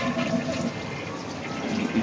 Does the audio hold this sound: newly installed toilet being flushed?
yes